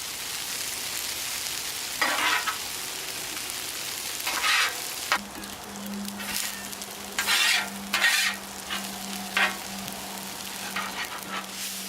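Chicken fried rice frying on a Japanese teppanyaki griddle, with a constant hiss and repeated sharp metal-spatula scrapes and stirs, plus a steady low hum from partway through; close and without speech.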